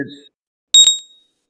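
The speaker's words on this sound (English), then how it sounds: "the actual bell went off here." A short bright electronic bell chime rings out twice in quick succession, loud and ringing briefly before fading into silence, following a moment of faint talk at the start.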